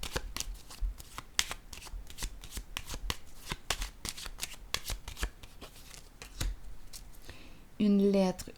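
Tarot cards shuffled in quick riffling bursts and laid down, a steady close papery rustle throughout, then a brief louder tonal burst near the end.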